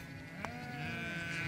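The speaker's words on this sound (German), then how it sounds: "Die Schafe und Ziegen können frei herumlaufen" Sheep and goats roaming freely on unfenced Mongolian grazing land give a single bleat, mid-distance over a steady background hum.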